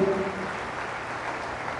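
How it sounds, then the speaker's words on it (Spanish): Applause for the Lord and the Virgin Mary during a Catholic religious gathering, a dense, steady patter of many hands that holds evenly throughout, with a voice briefly at the start. "Fuertes aplausos a nuestro Señor y a la Santísima y Purísima Virgen María"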